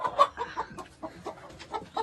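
Repeated soft clucking from a hen, several short bursts in an irregular rhythm, fairly close and moderately loud with no talking.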